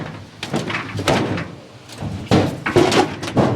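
Washing machine door, bent after being crushed by a dryer, swung and knocked shut several times in a row, giving close, loud thuds and bangs with short pauses between them.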